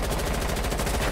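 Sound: gunfire in Rainbow Six Siege video game

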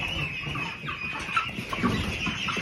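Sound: baby meat bird chickens clucking

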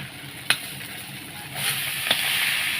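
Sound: prawns and bottle gourd frying in a pan

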